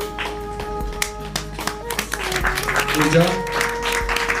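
Audience members clap at a prize distribution ceremony, with scattered, uneven hand claps close by while a voice speaks over them and a steady tonal hum runs underneath.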